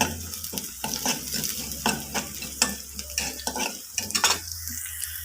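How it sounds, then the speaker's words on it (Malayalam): Onion, chili and curry leaves fry in a pan for pulissery, a quiet sizzle broken by frequent scraping strokes and clinks of a spoon stirring against the metal, with a low steady hum underneath and no talking. "ഇതൊന്ന് മൂത്ത് വരട്ടെ ഉള്ളി മുളക് മുളകും എല്ലാം മൂത്ത് നന്നായി വന്നിട്ടുണ്ട്"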